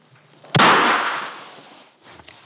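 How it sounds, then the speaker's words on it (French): A single sharp, loud gunshot with a decaying tail, fired close by during a forensic demonstration of gunshot residue, followed by quiet with faint handling sounds. "Donc je viens de tirer."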